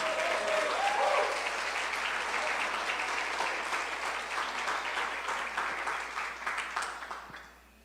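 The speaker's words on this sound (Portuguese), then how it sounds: "dão uma salva de palmas" A church congregation claps together in a dense, even round of applause lasting several seconds before fading out at the end.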